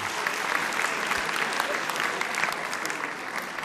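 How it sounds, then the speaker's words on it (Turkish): Audience applause at a televised talent show, a broad steady roar of many hands clapping in a large hall, sustained evenly for several seconds with faint voices beneath. "Teşekkür ederiz. Alkışlıyoruz."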